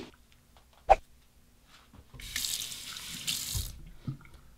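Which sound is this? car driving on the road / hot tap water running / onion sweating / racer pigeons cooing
hot tap water running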